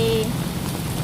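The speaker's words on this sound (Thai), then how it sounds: "ฝนก็ตกมากนะคะ ตกหนักเลย" Heavy rain pours steadily, a dense close hiss of drops drumming on a surface with no pauses.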